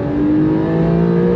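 A Porsche 911 Carrera S engine revs hard under steady acceleration, a loud, rising mechanical roar sustained without pause, close and continuous.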